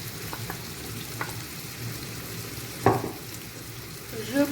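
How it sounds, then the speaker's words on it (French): Onions frying in a pan, stirred with a wooden spoon: a soft, steady sizzle with a few light scraping and tapping stirs, one clearer scrape near the end, close and quiet. "je vais laisser revenir mes oignons et je viens les mélanger dans un premier temps avec ma cuillère en bois"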